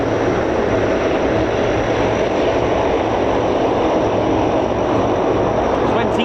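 A Lockheed C-5 Galaxy arriving at RAF Fairford during an air show gives a constant, loud, dense engine roar with a low steady drone beneath a broad hiss, unbroken throughout.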